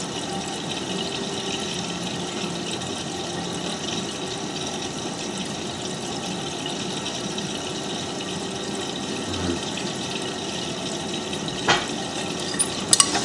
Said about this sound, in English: so now we're filling for the first rinse